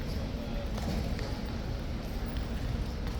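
Hooves of a King's Guard horse clip-clop on pavement in a noisy outdoor crowd, with soft irregular hoof strikes under dense ambient hubbub and some background voices.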